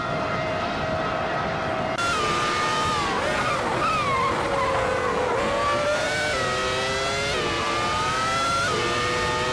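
Race cars in an AI-driven racing video game roar continuously, engine pitch rising and falling with gear shifts as several cars speed around the track, loud and steady throughout.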